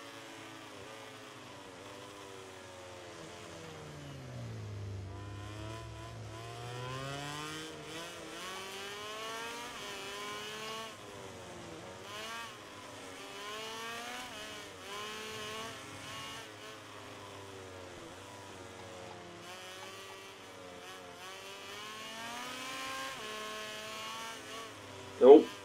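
Racing motorcycle engines in MotoGP 17 whine through a steady stream of gear changes, rising and falling pitch sweeps as bikes slipstream past one another, moderately loud and continuous with a short sharp burst at the end.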